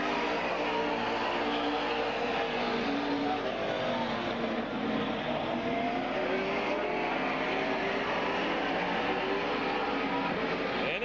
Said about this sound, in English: Sybil, Masson, Ohio, showing the way in the 83 car.